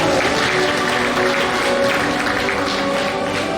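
Award ceremony audience applauding continuously, a dense steady wash of many hands clapping at moderate loudness with no speech over it.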